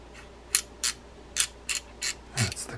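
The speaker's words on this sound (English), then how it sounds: "That's the click it makes." Ratchet clicking from the click ring of an Abu Ambassadeur EON 3601 fishing reel being serviced: a run of six sharp, close clicks at uneven spacing, alone with no talk.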